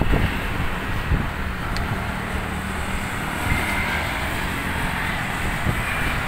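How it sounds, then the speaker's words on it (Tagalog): Steady, loud rush of wind buffeting the microphone, with low rumbling gusts throughout and no voices. "Pag ganitong malakas ang hangin, baka maggiwang-giwang."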